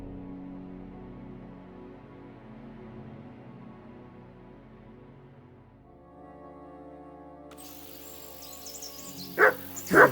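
Dog in Kingdom Come: Deliverance II gives two short sharp barks near the end, following a stretch of low sustained game music and ambience.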